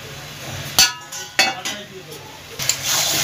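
Potatoes tipped into a pan of spiced chicken masala land with a few sharp clinks and knocks against the metal, followed by a low scraping and stirring bed, with faint background voice.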